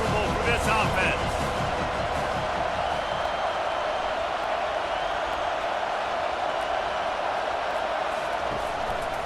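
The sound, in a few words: stadium crowd noise in the video game College Football 25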